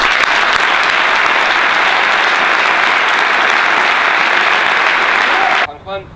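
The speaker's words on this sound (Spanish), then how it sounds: "me gustaría que este aplauso se lo diéramos todos a mi padre" An audience bursts into loud, sustained applause dedicated to the speaker's father, a dense wash of clapping that holds steady before cutting off abruptly, with a voice briefly speaking as it ends.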